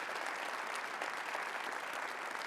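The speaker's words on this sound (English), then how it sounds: "How about one more round of applause for all of our participants?" An audience applauds at the close of a Detroit Economic Club meeting, a steady dense clapping from a large crowd filling the room evenly throughout, fairly distant and uniform.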